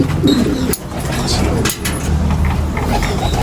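A breeding pigeon in a loft in Laoac, Pangasinan, coos in low, soft repeated calls over a constant background hum of machinery.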